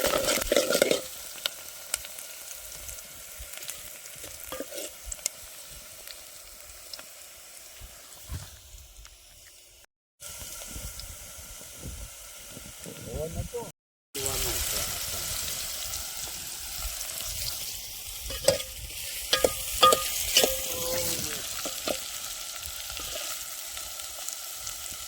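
Onions fry in hot oil for a vegetable curry, sizzling steadily nearby while a spoon stirs and scrapes the pan, with two brief silent gaps and stronger sizzling afterward.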